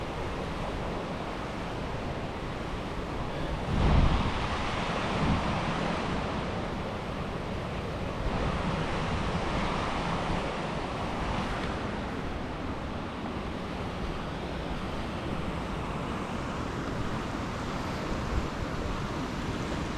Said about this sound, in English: There's another little waterfall over here.